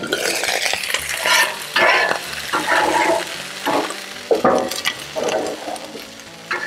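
Water splashed onto a hot Blackstone griddle sizzles and steams under a domed lid while filet mignon cooks, rising in loud hissing bursts that fade and flare again, close up, with no talking.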